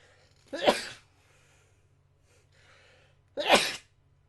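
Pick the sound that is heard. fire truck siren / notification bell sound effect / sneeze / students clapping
sneeze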